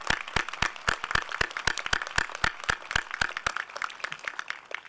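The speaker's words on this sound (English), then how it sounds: "a round of applause for the teachers at Glen Rock High School" A graduation audience at Glen Rock High School applauds the teachers, a crowd of hands clapping with several sharp, evenly spaced loud claps standing out near the microphone over the softer patter.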